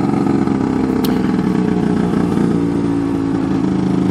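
A Lambretta or Vespa scooter engine labours up a steep hill in second gear in southern Norway, a loud, steady, continuous drone throughout with a brief high click near the start.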